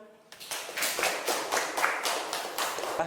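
After a student organization election reflection, a small group claps in a loose, rhythmic pattern, distinct close hand claps rising after a quiet start and continuing steadily.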